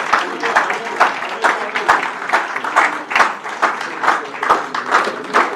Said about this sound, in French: Bravo, des applaudissements pour Ilman.